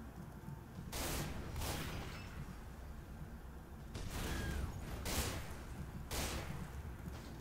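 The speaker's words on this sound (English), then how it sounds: "they're just gonna shoot everything that they can." Gunfire in Garry's Mod Prop Hunt, bursts of rapid shots in a few separate volleys, moderately loud and fairly close over a continuous rumbling game background.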